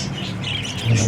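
Pet parakeets in a small cage give a short burst of squawks and chirps, fairly loud and close, with no talking.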